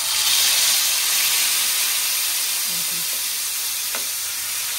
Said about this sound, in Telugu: మ్యారినేట్ చేసి పెట్టుకున్న చేపని ఆయిల్లో వేసుకోవాలి.